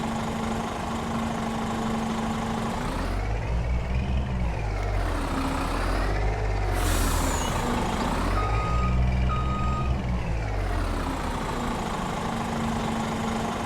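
A farm tractor or truck in a video game, hauling and dumping potatoes, reverses with a steady beeping alarm over a loud engine drone that revs and surges twice before settling back to idle; no talking.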